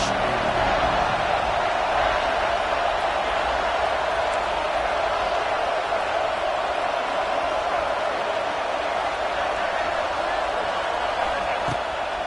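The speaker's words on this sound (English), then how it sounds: "this crowd is at fever pitch" A dense football stadium crowd roars continuously during a USC versus Ohio State game, a loud, unbroken wall of cheering and noise that holds steady throughout.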